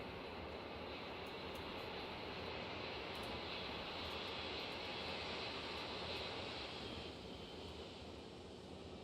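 A simulated airliner rolls fast down an icy, bumpy runway in Microsoft Flight Simulator 2024, giving a steady broad engine roar and rushing noise that holds throughout at a moderate, even level with no talking.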